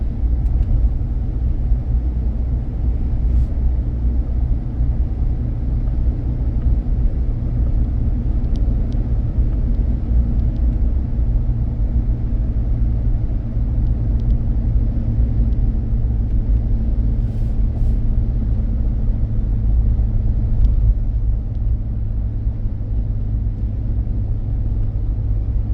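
A 2012 Ford F-150 pickup drives along the road, heard from inside the cab as a loud, steady low engine and road rumble that holds evenly throughout.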